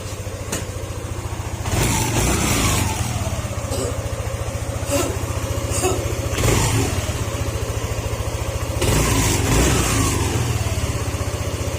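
A Yamaha NMAX 155 scooter engine with a bearing noise runs steadily nearby, a throbbing idle punctuated by several short revs that rise and fall.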